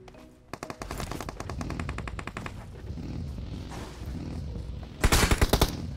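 Automatic gunfire in the PUBG battle royale game, with rapid close bursts of shots rattling across several seconds and a louder, tighter burst near the end; no voices.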